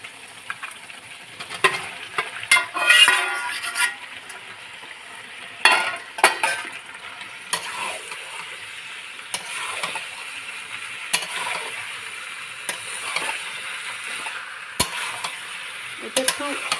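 Chitol fish dumplings drop into bubbling masala with boiled potatoes, giving a continuous oily sizzle with scattered clatters and scrapes of a spoon against the pan.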